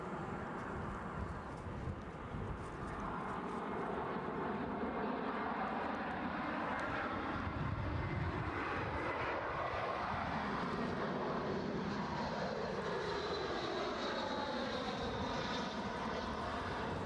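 An EasyJet A321 airliner passes at Edinburgh Airport, its jet engine roar loud and sustained with a shifting, sweeping tone as it moves by close overhead.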